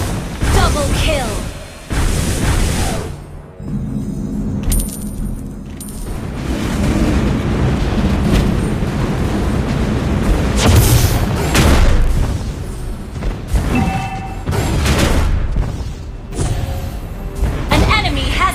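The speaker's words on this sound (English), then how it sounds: "Our turret has been destroyed." Explosions and booming blasts from a MOBA-style video game as a defending turret is destroyed, with repeated bursts and rumbling impacts over continuous game effects and announcer-style speech.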